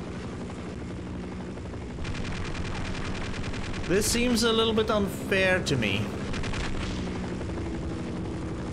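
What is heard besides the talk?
helicopter attacking in video game Half-Life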